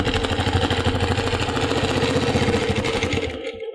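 A quilting machine stitches a Baptist Fans pattern, its motor humming with a rapid regular mechanical pulse close by, then easing off near the end.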